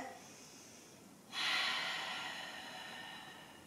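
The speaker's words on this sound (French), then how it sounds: "Inspire, expire sur place." Steady breathing during a beginner Pilates abdominal and pelvic floor exercise, a soft breath followed by a stronger, airy exhale that fades slowly, close and quiet.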